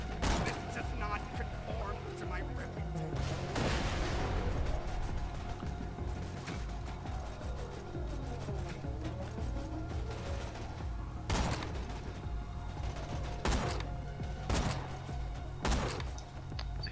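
Gunfire in the video game Borderlands 2, with a sniper rifle among the weapons, sounds as several sharp, loud shots, clustered early and again near the end, over a dense game soundscape.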